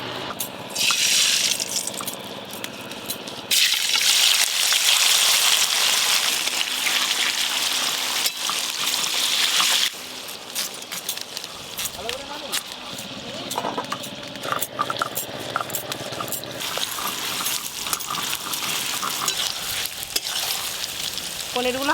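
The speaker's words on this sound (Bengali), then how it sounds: "পনিরগুলো খুব হালকা করে ভেজে নেব" Loud, continuous sizzling of paneer frying lightly in salted hot oil, with occasional stirring and clatter; the hiss eases after a while into softer crackling.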